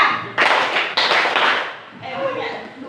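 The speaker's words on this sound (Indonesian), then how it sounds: "Tepuk tiga." A group claps in response to a spoken count, with a few loud, slightly ragged claps close by and talking heard around them.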